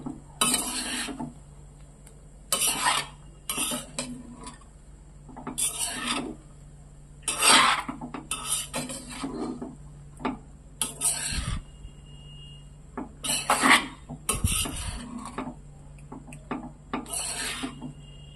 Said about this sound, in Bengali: দিয়ে আমি একটু নাড়াচাড়া করছি।